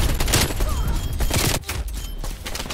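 An AK47 fires in the video game Call of Duty: Black Ops Cold War, in loud, rapid, continuous bursts. The gunfire fills the mix with crackling impacts and a brief dip partway through.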